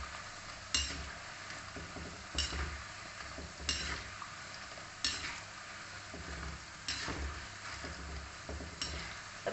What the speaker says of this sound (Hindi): मीडियम फ्लेम पे इसे फ्राई करते हैं, सुनहरा होने तक फ्राई करेंगे।